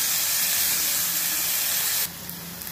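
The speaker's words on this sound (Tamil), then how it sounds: "வெங்காயம் நல்லா வதங்கட்டும்." Chopped onions with salt sautéing in a pan for a chicken gravy, giving a steady hissing sizzle that drops to a softer, quieter fizz near the end, with no talking.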